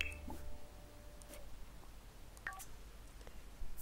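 Phone dialing in The Sims 4, a series of faint, quick keypad tones scattered across a few seconds over a low, steady background hum.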